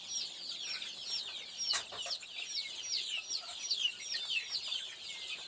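Chickens and chicks on a backyard poultry farm cluck and peep continuously at moderate volume, with a brief louder squawk, no talk.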